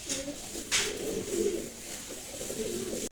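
German Beauty pigeons coo in a low, rolling murmur, a steady throaty burble close by with one brief sharper rustle partway through, voices faint or absent.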